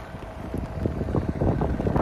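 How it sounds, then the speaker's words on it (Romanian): Strong, gusty wind roaring against the microphone during a snowy winter road trip through Latvia by the Baltic, a steady low rumble swelling louder in buffeting gusts, with no voices. "Vântul este infernal de puternic."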